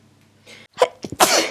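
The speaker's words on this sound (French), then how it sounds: "Je ne sais pas pourquoi j'éternue autant." A woman sneezes once, close and loud: a quick in-breath, then a sharp explosive burst with a breathy tail, alone without talk.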